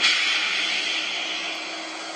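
Brake release on a Bachmann Union Pacific ALCo 2-6-0 model locomotive sound system, a steady airy hiss that slowly fades over about two seconds, heard alone.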